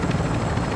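A helicopter in the video game Call of Duty DMZ gives a loud, close, continuous rotor drone with a dense, rumbling throb lasting under a second.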